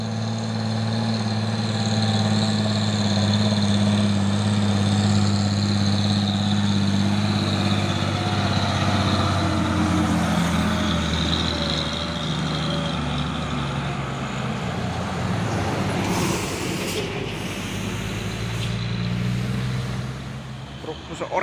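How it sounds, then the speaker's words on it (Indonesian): An orange 4x2 truck loaded with oil palm fruit grinds up Bukit Kodok hill by day, its engine droning loud and steady for about twenty seconds, with a low hum that shifts pitch near the end. "Truk oren menanjak di Bukit Kodok di siang hari."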